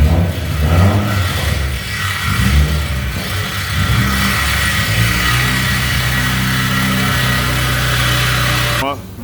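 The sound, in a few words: car exhaust revving with mufflers removed, Borla ATAK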